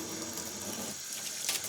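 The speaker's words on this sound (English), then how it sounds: "So simply just turn on your faucet," Water runs steadily from a kitchen faucet spout into a sink, a continuous close hiss and splash with no talking over it.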